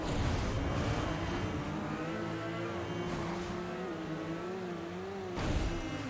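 A car in the Midnight Club 2 racing game accelerates along a highway, its engine whine climbing and holding steady at close range, with a short burst of louder noise near the end and no talking.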